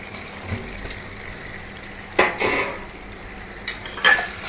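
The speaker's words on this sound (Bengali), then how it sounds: "ভালো করে মশলার সাথে মিশিয়ে দেবো" Fried chicken pieces being stirred into a spiced mixture in a pan for chili chicken, giving a few sharp scrapes and clatters of a spoon against the pan over a faint low sizzle, close and fairly quiet.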